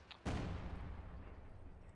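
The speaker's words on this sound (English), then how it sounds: "Artillery barrage going off from the stolen AT-gun, trying to hit the fuel cache" A stolen AT-gun fires an artillery barrage at a fuel cache in Company of Heroes 2, one sharp, heavy blast that settles into a low, fading rumble.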